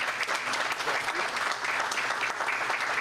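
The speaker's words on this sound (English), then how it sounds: "We will give him applause." A press-conference audience claps for a visiting Hall of Famer, a steady, moderately loud wash of many hands with no voices over it.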